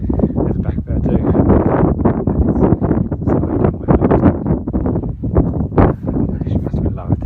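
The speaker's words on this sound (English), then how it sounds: "You probably can't hear me brilliant because of the wind." Strong wind buffets the microphone outdoors in a continuous, uneven rumble that swells and dips, loud and close, while someone talks throughout over the gusts.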